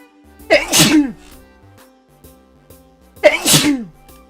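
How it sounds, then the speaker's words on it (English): Two loud, close sneezes about three seconds apart, each a sharp breathy burst with a vocal tail, over a faint background of soft video-game music. "I'm gonna sneeze."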